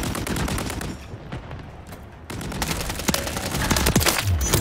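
Rapid bursts of gunfire from hip-firing in Call of Duty Modern Warfare 3, loud and close, with dense automatic fire at the start, a brief lull, then heavier shooting that resumes and builds.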